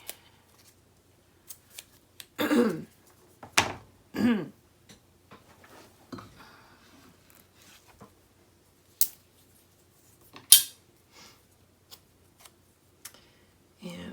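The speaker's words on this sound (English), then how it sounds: "So I'm going to go ahead and get my tape ready." Extra wide tape being pulled and torn off for applying basic gray magnets in a mini album craft project, heard as several short close rips and crinkles scattered among quiet pauses and small clicks.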